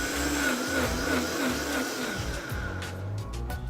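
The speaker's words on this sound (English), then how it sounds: "We just put it in the blender and press play." A blender whirs steadily and loudly, blending salsa of garlic, serrano chilies, cilantro, lime juice and salt, with a continuous grinding drone and shifting pitch throughout.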